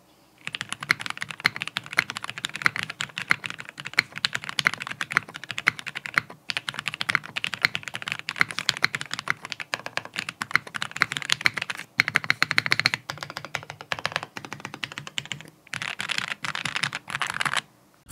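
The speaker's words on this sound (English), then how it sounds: "here I actually got my logo engraved on the back of this keyboard, and I actually really like how it sounds" Continuous fast typing on a mechanical computer keyboard with an engraved back plate in a home office desk setup, dense clacky keystrokes close up, with brief pauses, no talk.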